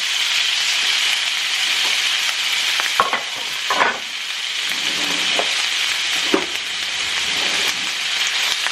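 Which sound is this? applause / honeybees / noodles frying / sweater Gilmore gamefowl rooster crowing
noodles frying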